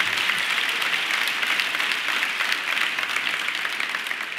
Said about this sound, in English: I think that deserves a round of applause for being there.